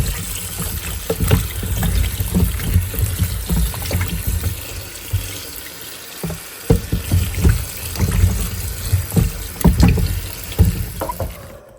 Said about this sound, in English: I will be washing all of these apples and eventually peeling them